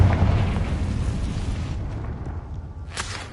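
A Confringo spell explodes in a Hogwarts video game: a loud, deep rumbling blast that slowly fades over a few seconds, then a short, sharper crackling burst near the end, with no voices.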